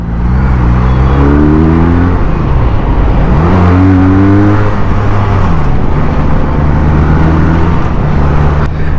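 A QJ Motor SRK 400 two-cylinder naked motorcycle accelerates hard through its gears, the engine note rising in repeated sweeps with brief dips at each shift, loud and close for the whole stretch.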